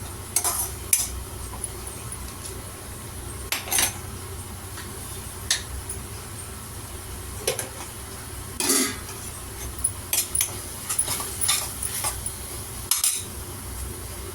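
A spoon stirring tomato rice mixed with salt in a pan, with soft scrapes and clinks of utensil on metal and faint sizzling underneath, intermittent and close, with no speech.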